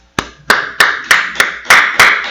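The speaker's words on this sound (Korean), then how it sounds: "박수 쳐주세요" Church congregation clapping in a slow, regular rhythm of seven sharp, loud claps spaced about a third of a second apart, close and clear with no talk.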